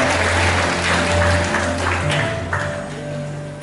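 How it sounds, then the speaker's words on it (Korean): Applause from an audience at a women's week ceremony and speech contest, a steady wash of many hands clapping that fills the clip and slowly fades toward the end. "여러분 다시 한번 힘찬 경기의 박수를 부탁드리겠습니다."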